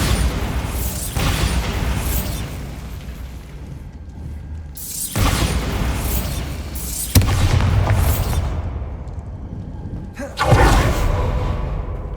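The Bombarda explosion spell from Hogwarts Legacy goes off several times in a row, each a loud booming blast with a rushing burst that fades into rumble before the next one hits.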